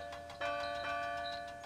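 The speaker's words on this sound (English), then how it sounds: "The bell chimed cheerfully as it was loaded onto Duncan's flatbed." A large bell in a wooden frame being loaded onto a flatbed truck in a cartoon, ringing in a few soft, bright repeated chimes with a sustained metallic hum, modest in volume and alone.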